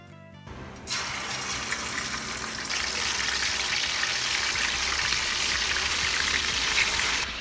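Loud, steady hiss of unbreaded chicken frying in hot oil, a dense sizzle that starts abruptly and continues without pause.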